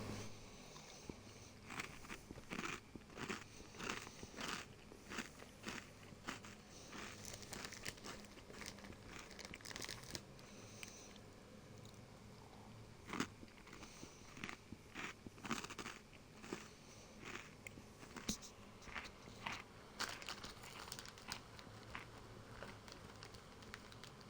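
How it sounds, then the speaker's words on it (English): Someone munching food close to a microphone, with a long run of crunchy, crinkly bites and chewing clicks at an irregular rhythm, fairly faint overall. "Terribly sorry if you guys can hear me munching right now."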